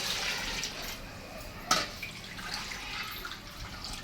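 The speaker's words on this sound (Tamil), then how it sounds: "பாருங்க 3 கப் அளவுக்கு தண்ணி சேர்த்துக்கிறேன்." Water poured into a cooking pot with coconut milk for vegetable biryani, a steady soft splashing wash with one brief sharper splash partway through, close and moderately quiet, no talking.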